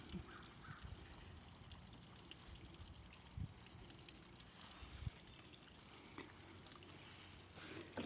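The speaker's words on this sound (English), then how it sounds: "I'll let some of the water out." Water drains from a Dodge vehicle's radiator, trickling and gushing quietly and continuously, with a few soft knocks and splashes along the way.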